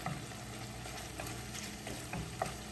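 Bacon and onion frying in a pan for a squash and zucchini dish, a soft steady sizzle with occasional light scrapes and clicks as the mixture is stirred, fairly quiet throughout with no talking.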